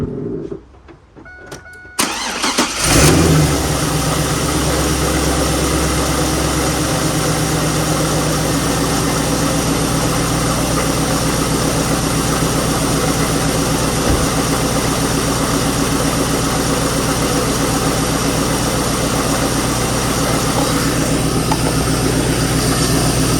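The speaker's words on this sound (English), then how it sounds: "Give me a second, and I'm gonna start this thing up. All right, I'm gonna start it up right now." A 2002 Chevy Camaro Z28 with a newly changed serpentine and AC belt cranks over after a couple of short clicks, catches, and settles into a loud, steady close-up idle for the rest of the time.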